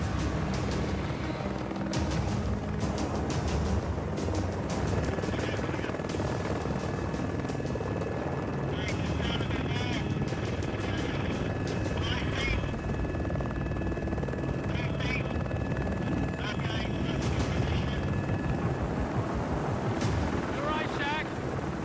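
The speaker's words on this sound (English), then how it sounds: "Helicopter." A helicopter arrives at a rooftop pickup, its rotor and engine roaring loud and continuous with buffeting wind noise throughout, while people speak faintly beneath it.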